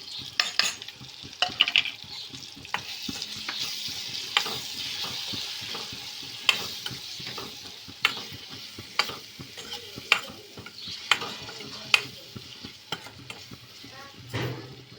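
Sponge gourd and tomatoes sizzle steadily in a hot pan while a utensil stirs and scrapes, sharp knocks against the pan recurring every second or so.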